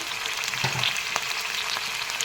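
Chicken meat for a chicken and cauliflower curry sizzles steadily in a hot pan, a soft continuous frying hiss with small crackles and a few stir bumps, close and even throughout.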